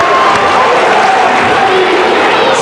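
A crowd at a 1997 junior college basketball game, Vermilion CC Ironmen at Fergus Falls CC Spartans, roars loudly and continuously after a breakaway dunk, a dense wash of cheering with faint whistles.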